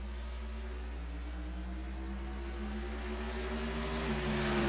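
Late model stock cars rev and accelerate together at a green-flag restart in the NASCAR Racing 2003 game at Mansfield, a steady droning multi-engine roar with rising pitch, moderately loud and unbroken, with no talk.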